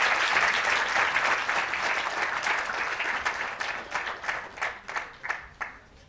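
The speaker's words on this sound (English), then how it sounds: "Can we have a huge round of applause for Mr." A large audience applauds a guest speaker at a panel event, dense clapping at first that gradually thins into more distinct, scattered claps as it fades.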